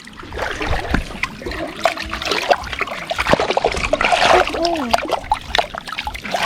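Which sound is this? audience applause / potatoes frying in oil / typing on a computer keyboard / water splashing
water splashing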